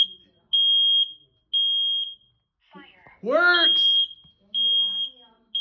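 Household smoke alarm being tested, sounding loud repeated piercing beeps in regular bursts, with a person speaking briefly in between.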